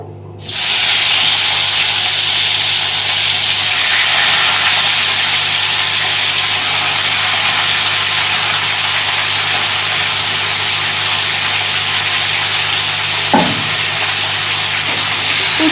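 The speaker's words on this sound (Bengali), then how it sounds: "এবার এই তেলের মধ্যে দিয়ে দেবো উচ্ছেগুলো" Pieces of bitter gourd fry in hot oil with a loud, continuous sizzle and hiss that start suddenly and hold steady and close, with one faint tap partway through.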